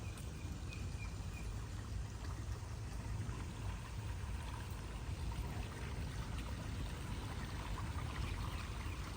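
Water flows and trickles gently in a botanical garden among tropical plants. It is a faint, continuous wash with no voices, and occasional soft bird notes can be heard under the stream.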